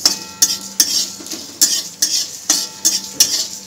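Whole cumin and coriander seeds dry-roast in a pan, stirred with a metal spoon in a steady rhythm of loud, close scraping strokes, about two per second.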